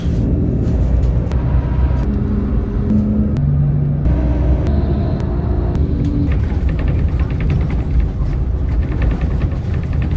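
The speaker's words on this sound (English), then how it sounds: "All right, we are on the bus." Riding inside a moving Flixbus coach in Latvia, a steady, loud low engine rumble fills the cabin throughout, with gear-change pitch shifts and faint rattles, and no talking.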